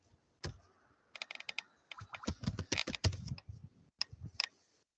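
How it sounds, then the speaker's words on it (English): Close keyboard typing: bursts of quick clicking keystrokes in irregular runs, with short pauses between, in a quiet room. "Anyone is typing?"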